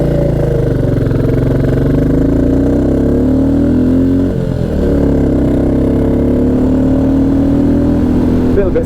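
A Royal Enfield Classic 350 motorcycle engine runs loud and close on a mountain pass, a steady thumping drone whose pitch slides up and down with throttle, a brief dip midway, with a rider speaking over it.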